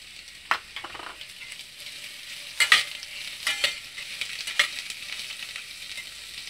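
Carrots being stirred and fried with curry leaves and green chillies in a pan for a vermicelli noodle dish, with a steady soft sizzle and a few sharp scraping clinks of the spoon against the pan.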